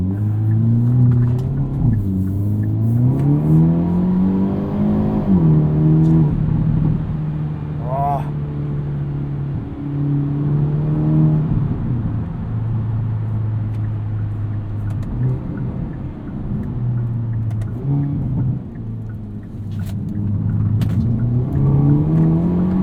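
Cabin drone of a 2022 Hyundai Elantra N with a DCT gearbox in full N mode. The engine revs loudly and rises and falls through quick shifts while cornering, with the driver talking over it.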